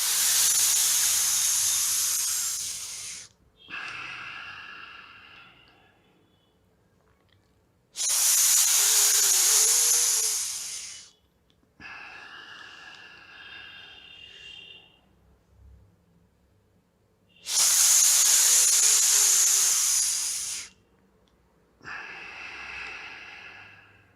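Forceful yoga breathing under pressure: three long, loud hissing breaths, each followed by a shorter, softer breath with quiet pauses between, close and steady in rhythm.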